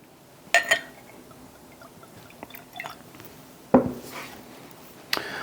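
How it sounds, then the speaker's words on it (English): Penelope Architect bourbon poured into a glass, heard as a few short, close splashes and clinks with quiet gaps between them, with no talking. "so I'm gonna go ahead and pour it up."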